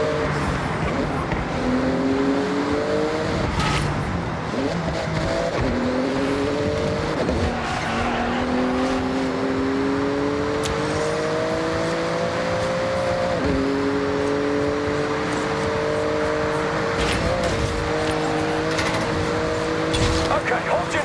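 Porsche racing flat out through a speed zone in Forza Horizon, the engine loud and close, rising in pitch through repeated gear shifts with tire squeal layered over a steady roar.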